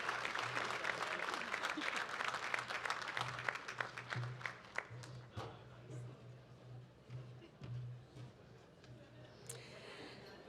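Audience applause at a graduate studies convocation for a PhD graduate: dense, sustained clapping from a large hall crowd that gradually thins and fades toward the end.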